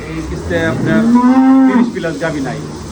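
A dairy cow on a farm gives one loud, close, drawn-out moo with a rising and falling tone, lasting about a second, with no talk.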